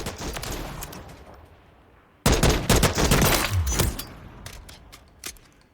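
Rapid weapon fire from Call of Duty Modern Warfare III starts with a few scattered shots, then breaks into a loud, dense burst of fast rattling gunfire that tapers into isolated pops.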